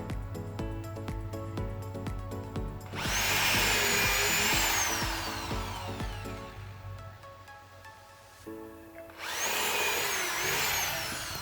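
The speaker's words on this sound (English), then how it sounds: "when I put the screws into here to screw it into this wood, and I want to use screws" Screws are driven into wood with a power drill in bursts, with loud whirring runs broken by pauses and some knocking and handling sounds between them.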